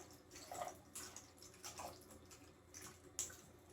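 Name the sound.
pouring lemon cucumber infused water into ice tray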